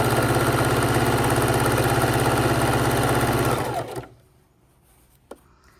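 A sewing machine running a straight stitch on a purse strap, loud and close, with a steady fast mechanical whir and rhythmic needle clatter for about four seconds before it stops, followed by a single small click.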